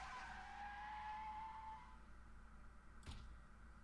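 A car skids with a long tire squeal and then strikes someone with a short, sharp thud in the visual novel Amnesia: Memories, heard fairly quietly over a low background hum.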